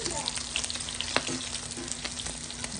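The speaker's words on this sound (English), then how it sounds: "letting it fry for a little bit" Chicken skins fry in their own rendered fat with a steady close sizzle, scattered pops and crackles, and an occasional scrape of stirring.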